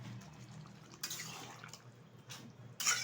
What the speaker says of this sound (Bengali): দিয়ে দিচ্ছি খুব অল্প পরিমাণে একটু জল।